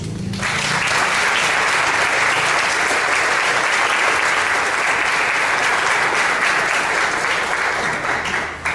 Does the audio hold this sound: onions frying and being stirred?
no